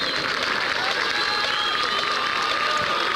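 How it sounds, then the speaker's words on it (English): Fans applaud and cheer steadily after a school Wildcat marching band performance at a high school football game, a dense, continuous wash of clapping from a crowd with voices mixed in. "Terrell clapping for those Wildcat band members"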